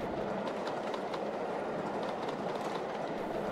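Two engines thunder along a main railway line with a dense, continuous rumble and a faint clickety-clack of wheels, steady and fairly close throughout.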